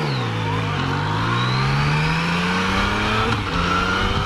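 A Yamaha FJ-09 motorcycle pulls hard up a highway on-ramp, its engine note climbing steadily and shifting once, then rising again under constant loud wind rush.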